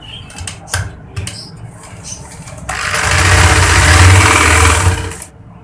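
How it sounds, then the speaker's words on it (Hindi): Sewing machine stitching a baby girl's designer kurti, beginning with scattered clicks and short handling sounds, then a steady motor whir with needle hum running for about two and a half seconds before stopping. "चलो मैं आपको सिलाई लगा के दिखाती हूँ।"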